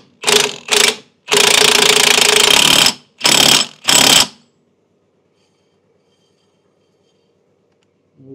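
A power tool, likely an impact wrench, drives a bolt back on in loud, close bursts: two short zips, a long sustained rattle, then two more short bursts, followed by silence.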